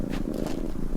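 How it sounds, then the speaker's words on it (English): An Abyssinian cat purrs close up in a steady, continuous rumble that fills the short moment without pause. "Oh, he's purring."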